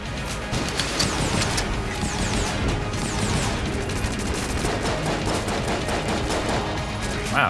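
Rapid gunfire from the top-down dungeon shooter Enter the Gungeon, a dense, continuous barrage of overlapping shots and impacts lasting several seconds, loud and busy with no pauses.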